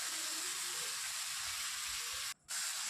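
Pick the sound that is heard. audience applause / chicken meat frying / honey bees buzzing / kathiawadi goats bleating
chicken meat frying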